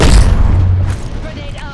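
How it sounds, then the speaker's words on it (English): An arc star grenade is thrown during an Apex Legends firefight, a short booming burst that tails off into crackling, with game voice lines over it. "Throwing an arc star."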